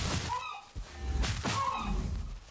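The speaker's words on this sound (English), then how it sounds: "has changed the way the sound of farming works for farming chickens as well" Chickens on a farm in the Valheim video game cluck and squawk in a few short bursts, close and moderately loud over a low ambient rumble, with no talk.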